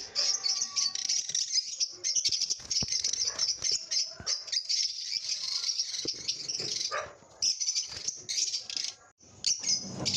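Dense, continuous high chirping and chattering of many small parrots, mask lovebirds, close and busy, with occasional rattling clicks among the birds.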